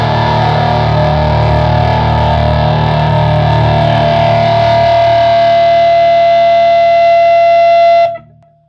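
An electric guitar chord played through a DOD FX56 American Metal distortion pedal, thick and heavily saturated, sustaining loudly for about eight seconds before being cut off abruptly.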